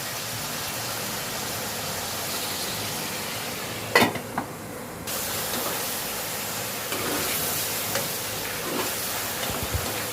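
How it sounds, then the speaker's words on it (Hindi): Ginger garlic paste frying in a pan for spicy village-style chicken karahi, a steady close sizzle and hiss with a sharp burst of stirring clatter partway through, then continued crackling frying. "फिर इसमें हम अदरक लहसुन का पेस्ट शामिल करेंगे और थोड़ी देर के लिए इसको भुनेंगे"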